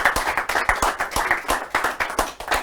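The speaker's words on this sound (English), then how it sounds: "give a round of applause to all of you for contributing to this project." A few hands clap close by at a manufacturing project's final event, a brisk, uneven patter of individual claps rather than a large ovation, with no speech over it.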